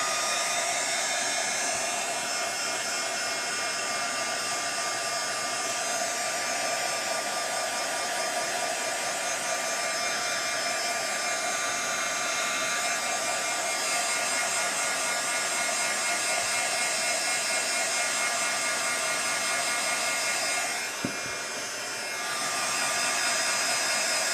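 A hair dryer blows steadily and close by while drying a craft gift box finished with Shimmerz paint, a continuous even whoosh with no talking and only a brief dip near the end.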